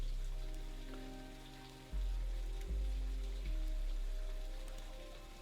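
Steady in-game rain patters continuously, moderately loud, under layered music tones, with no one talking.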